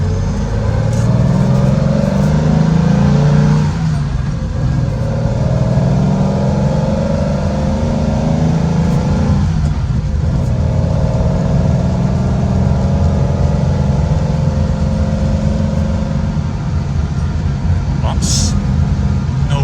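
A restored car's engine runs steadily during a test drive, with mid-range drone and cabin rumble that rise and ease slightly. Someone talks faintly over it in places.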